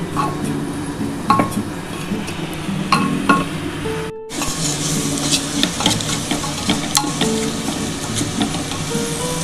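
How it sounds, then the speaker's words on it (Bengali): Khichuri of gobindobhog rice and moong dal, with green chillies and chopped tomato, is stirred in a pan: loud scraping and occasional clinks over a soft sizzle, briefly cut off partway, with no voices. "এবার ভালো করে একটু নাড়াচাড়া করে নিতে হবে"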